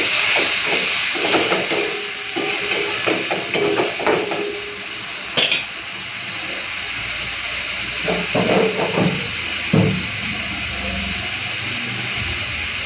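Water poured into spice paste with chili powder frying in a pan gives a loud, steady steamy sizzle and hiss, broken by a few sharp clinks and scrapes of utensils against the pan.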